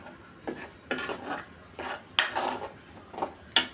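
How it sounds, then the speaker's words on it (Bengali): A spatula scrapes and stirs a paste of ground onion, turmeric, chilli, salt and cumin frying in oil in a pan for katla fish curry. About six irregular scraping strokes sound up close, with no voices. "এখন পেস্টটা তেলে দিয়ে কষিয়ে নিচ্ছি।"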